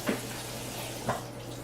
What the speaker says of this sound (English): just make sure that you're washing the kale, making sure that you get it all washed